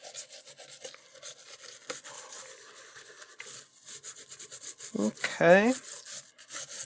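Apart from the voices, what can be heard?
scrubbing and cleaning corroded sockets on an Apple //c memory board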